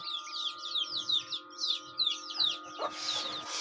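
Native desi chickens cluck and chatter in quick overlapping bursts, fairly close, over a steady hum, with a short rustle near the end.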